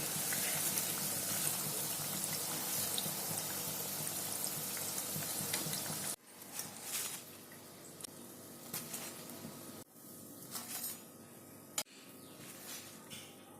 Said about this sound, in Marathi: वडे ब्राऊन होईस्तोवर तळून घ्यावे